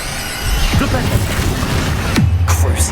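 A Flipendo spell fires in the Hogwarts Legacy video game, giving a sharp whooshing cast with a falling tone, then a second burst and crash, all over a steady game background.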